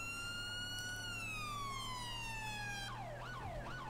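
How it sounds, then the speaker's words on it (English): A police siren on a BMW X5 in the GTA 5 LSPDFR police mod wails in a long, loud, steady sweep, then switches to a faster rising yelp near the end, heard alone with a low engine hum beneath. "I gotta change that siren."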